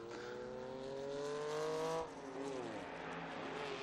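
A Lotus 7 race car overtakes a Ford Falcon on the inside during historic racing at Estoril, engines revving loudly with rising pitch, then a gear change and a renewed climb as the cars pass.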